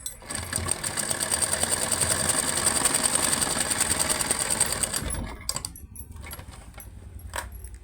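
A sewing machine stitches two blouse pieces together with a basting seam, running steadily and loudly for about five seconds before stopping, followed by faint handling noises.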